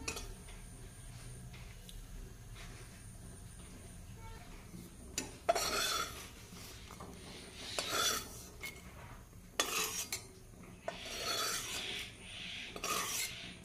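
Fried garlic and ginger are scooped out of a wok with a metal spatula, making quiet scraping rasps and a few louder scoops over a faint sizzle.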